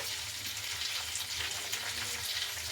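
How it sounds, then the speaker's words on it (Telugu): Green chilies sizzle in hot oil for a tempering, a steady close hiss and crackle running unbroken and fairly quiet throughout, with no voices over it. "ఆయిల్లో వేగుతుంది కదా"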